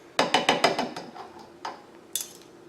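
A spoon or whisk clinks rapidly against a container while honey is mixed into a basil vinaigrette, with a quick rhythmic series of taps followed by a couple of slower, isolated knocks.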